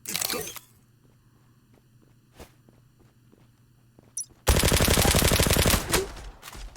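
Gunfire in the online shooter Zula: a few scattered single shots, then a long sustained burst of rapid automatic fire that cuts off abruptly, with quiet footsteps and clicks between.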